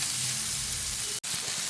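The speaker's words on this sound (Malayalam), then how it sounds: "അതുകൊണ്ടാണ് വെളിച്ചെണ്ണ മാറ്റാതെ ഇതേ പാനിൽ തന്നെ വറുത്തെടുക്കുന്നത്" Fish masala sizzles and fries steadily in coconut oil in a pan, a close, even hiss that breaks off for an instant before carrying on.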